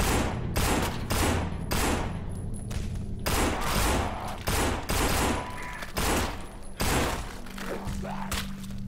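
Rapid 9mm Beretta pistol shots ring out in the zombie video game No More Room in Hell, a close, loud series of sharp cracks in quick uneven bursts with short pauses between volleys.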